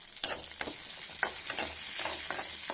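Green chilies with coriander seeds, fenugreek and cumin fry in a pan for a green chili chutney, giving a steady, close sizzle broken by a few sharp crackles and stirring scrapes, with no talking.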